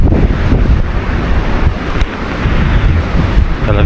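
Strong mountain wind roars on Mount Wilis, a continuous loud buffeting rush with gusts hitting the microphone, no voices.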